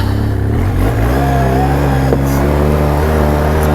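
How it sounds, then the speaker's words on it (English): A 2012 Polaris Sportsman 800 EFI ATV's inline-twin pushrod engine idles close by, a steady, fairly quiet rumble, low and even with a slight throb, running continuously throughout. "for a inline twin, especially a push rod engine, this thing's fairly quiet"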